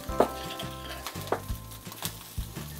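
Dried fish (sukat) roasting crisp in a pan sizzles softly, broken by a few sharp scraping and tapping strokes as the pieces are turned.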